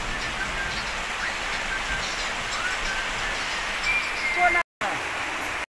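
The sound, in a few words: rain falling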